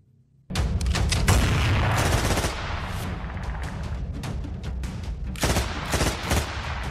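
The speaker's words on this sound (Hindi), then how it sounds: "गोलियां चलते ही चौराहे पर भगदड़ मच जाती है।" Loud gunfire erupts after a brief quiet at a street intersection, a rapid burst of shots that continues as dense, booming fire throughout.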